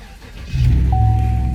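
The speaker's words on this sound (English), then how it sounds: "we should be able to start the car now." A 2019 Chevrolet Silverado pickup truck engine cranks and catches at about half a second, then settles into a steady, close idle with a faint whine running over it.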